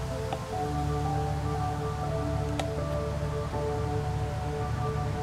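Steady rain falls outdoors on a wet day, a continuous even hiss close by with a faint tick or two of drops, no talking.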